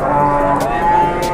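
A calf, Simmental or Limousin, moos at a large cattle market in Boyolali, one loud, sustained, tonal bellow close by, with a few sharp knocks in the background.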